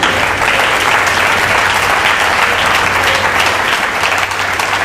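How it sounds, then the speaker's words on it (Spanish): Congregation applauding at an evening church conference, a dense, steady wash of clapping that holds loud and continuous throughout with no voices standing out. "Démosle un aplauso a Jesús"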